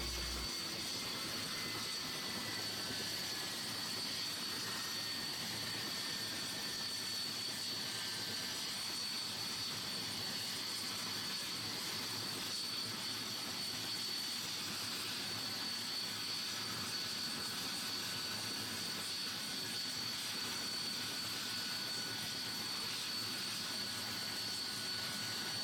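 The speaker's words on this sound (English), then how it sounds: "Now it's time to test those helicopter blades and see how well they're put on." Helicopter engine and rotor blades run up on deck aboard the icebreaker Kapitan Khlebnikov, a steady loud turbine whine with a droning roar held unbroken throughout.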